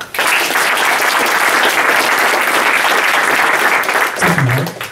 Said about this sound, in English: can I get a massive round of applause for Daniël?